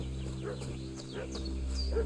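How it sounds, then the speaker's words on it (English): A dog barks and yips in a medieval village setting in Kingdom Come: Deliverance 2, sharp repeated barks at mid distance over a steady low ambient drone of game music. "Perché sento un cane abbaiare?"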